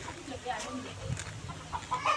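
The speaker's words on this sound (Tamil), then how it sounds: "நம்ம கோழிங்க. இப்போ பார்த்தீங்கன்னா இந்த கூண்டு நம்ம எடுத்துகிட்டு போய்" Caged chickens, including black hens, cluck and murmur nearby in short scattered calls under someone talking.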